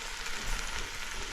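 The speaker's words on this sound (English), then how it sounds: "we first sauteed some thyme, some garlic, onions, and carrots in some olive oil" Thyme, garlic, onions and carrots sauté in olive oil, giving a steady, soft, close sizzle with no talking.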